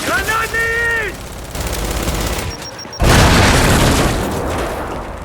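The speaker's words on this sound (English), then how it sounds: "Grenade!" A grenade blast and heavy gunfire in Gears 5: the firing begins, a voice shouts briefly over it, and then a loud, close explosion hits and rumbles away with shots mixed in.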